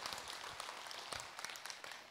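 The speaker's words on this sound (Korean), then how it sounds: "박수로 맞으세요" Faint, distant audience applause at a Buddhist monk's dharma talk, a steady patter of many hands welcoming a questioner.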